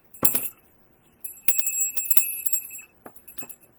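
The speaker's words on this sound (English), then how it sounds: "I guess I wanted to ring the bell." A bell is struck several times in a home, each clear metallic ring standing alone and fading, with two strong strikes early and a few softer taps toward the end.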